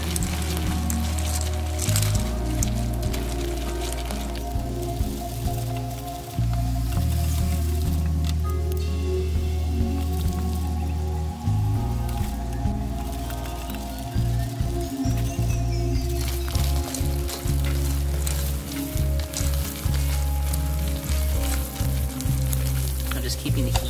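A sodium silicate solution boils on the heat while silica gel dissolves in it, making a continuous bubbling, hissing rumble with fine popping crackles, loud and steady throughout.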